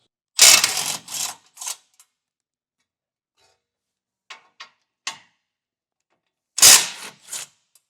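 A ratchet removes two 16mm bolts on a 2025 Jeep, with close, sharp clicking bursts at the start and end and a few faint ticks in a quiet pause between.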